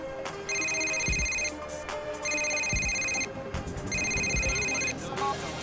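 A cell phone rings in Grand Theft Auto IV with three repeated electronic ringtone bursts, each about a second long, over a steady game background with no talking.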